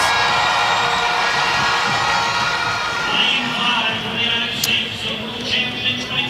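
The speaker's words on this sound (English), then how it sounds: "Clayton got a great cheer" A stadium crowd cheers and shouts for American 400m hurdler Clayton at a race in Jamaica, a loud, sustained roar that swells and holds throughout, with voices audible within it.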